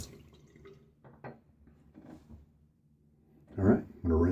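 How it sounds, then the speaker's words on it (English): Water runs briefly near the end as a silvertip shaving brush loaded with Williams soap is rinsed off, two short splashing bursts after a quiet stretch. "I'm gonna rinse that off"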